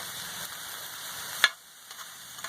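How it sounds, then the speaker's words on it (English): Rice browning in a pan gives a soft, steady sizzle throughout, broken once by a short clack of a utensil and a few faint scrapes. "we're just doing this rice to brown it, get some flavoring"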